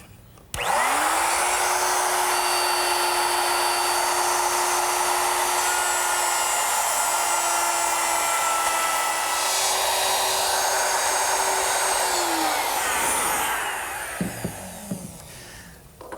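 Handheld router cutting a dado in wood, guided along a guide block: a loud, steady high whine spins up and holds for about twelve seconds, then winds down, followed by a few light knocks.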